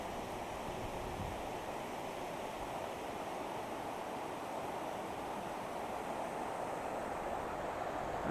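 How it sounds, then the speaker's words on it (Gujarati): River water flowing near Zarwani waterfall makes a soft, steady, continuous rushing wash, faint and unbroken throughout, with no voices. "કેવો મસ્તનો અવાજ આવે પાણીનો"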